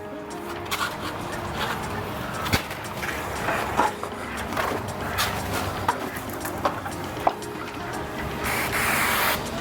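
A garden hose sprays water across LED screen lights around a patio and pool, a steady hiss with occasional louder splashes and knocks nearby, continuous over several seconds.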